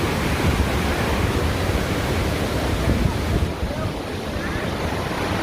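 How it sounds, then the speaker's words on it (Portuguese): The Cachoeira dos Pretos waterfall, a dense, continuous roar of falling water that fills the scene, loud and steady throughout with no distinct pauses. "A famosa cachoeira dos pretos."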